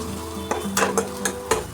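Ginger, green chilli paste, turmeric and sugar stirred in a pan over low heat, a soft sizzle broken by several sharp utensil scrapes and clinks in an uneven rhythm.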